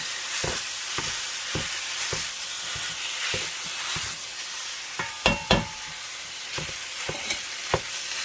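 Ground turkey browning in a skillet, a steady close sizzle broken by regular scraping and stirring taps of a utensil against the pan.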